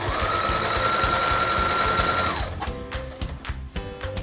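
A sewing machine stitching denim scrunchies, a steady loud whirring run with a whining tone that breaks into short stop-start bursts of stitching near the end.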